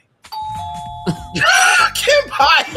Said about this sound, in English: I know someone has a bell like this at home right now and they're listening